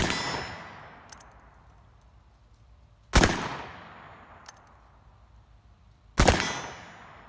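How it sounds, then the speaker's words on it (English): Three loud shots from a Colt Walker 1847 black-powder revolver with a 40-grain powder load, spaced about three seconds apart. Each is a sharp crack followed by a long, ringing decay. "Going to give us a couple shots downrange, see what 40 grains does versus the 24 grains we did last time."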